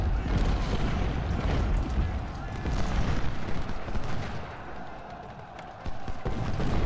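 Booming cannon and musket fire from a Civil War battle in Ultimate General: Civil War rumbles continuously at a distance, with scattered sharper reports, while someone speaks German over it.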